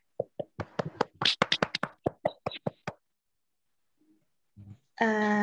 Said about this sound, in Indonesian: semuanya kita tepuk tangan dulu ya